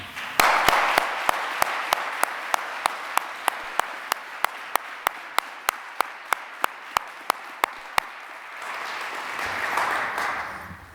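An audience welcomes speakers at a community listening event with applause: soft crowd clapping under a run of sharp, regular claps close by, fading to a murmuring room before swelling slightly again at the end.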